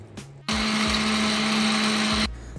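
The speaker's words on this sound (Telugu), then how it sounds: "ఈ బాయిల్డ్ ఎగ్స్ని పెప్పర్ని గార్లిక్ని కొంచెం మిల్క్ వేసి అలానే కొంచెం లెమన్ వేసి మిక్సీ చేసేయండి" A kitchen mixer grinder whirs loudly and steadily for about two seconds, blending boiled eggs with garlic, pepper, a little milk and lemon, then cuts off, with no talk over it.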